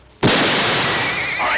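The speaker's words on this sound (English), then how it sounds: "I think I'll put a bullet through your leg, so you'll know how it feels." A single loud gunshot cracks suddenly in a western drama, followed by a long, wide ringing decay that fills the rest of the moment with no other sound.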